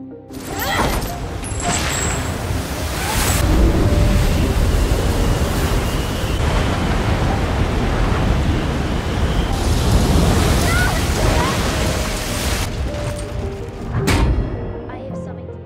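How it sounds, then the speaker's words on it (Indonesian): Loud crashing storm waves at sea and strong wind roar continuously, a dense, rough wash of noise with surging peaks. "Akhirnya badai besar pun datang."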